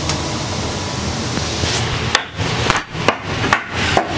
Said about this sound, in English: I'm just going to tie this in with the hammer here